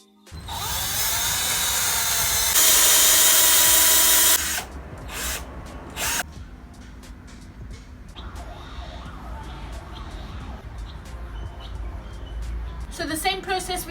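A power drill bores holes into wood for dowel joints on a DIY laundry storage unit, a loud, close whining burst for about four seconds, then quieter workshop handling noises with short knocks and a brief revving at the end.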